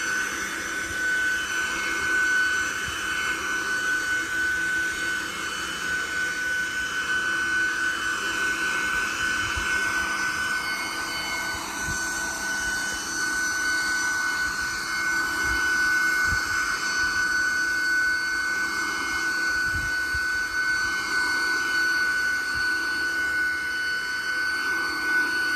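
A leaf blower roars steadily and close by while leaves are blown across a lawn, its loud, even whine holding nearly unchanged for the whole stretch with a faint tonal edge.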